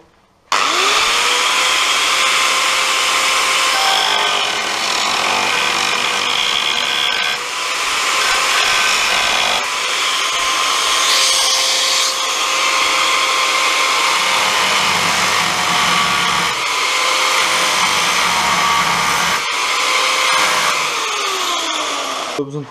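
Power tool cutting sheet metal on a Citroën 2CV chassis during repair, a continuous loud high-pitched whine with gritty grinding that runs steadily nearly the whole time, its pitch dipping and rising slightly as the cut progresses.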